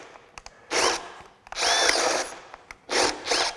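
A Craftsman brushless hammer drill on a 6Ah battery bores into wood with a large bit, three loud straining bursts of whirring separated by brief pauses and short stalls.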